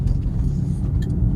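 A 2024 Mercedes-AMG A35 with all-wheel drive and a turbocharged engine rumbles steadily from inside the cabin as it slows for handling, a low, even drone with faint road noise and no speech.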